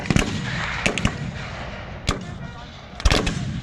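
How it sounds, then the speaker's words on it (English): Confederate muskets at a US Civil War re-enactment fire by rank, a ripple of sharp, fairly close reports at irregular intervals over a steady crowd and outdoor murmur. "the Confederates are putting up some fire by rank by the looks of it"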